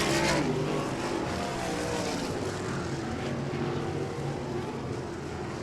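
Race cars roar down the back straightaway on the final lap at Devil's Bowl Speedway during a spring nationals night, a loud, continuous, dense engine drone with a swell at the start, no talk over it.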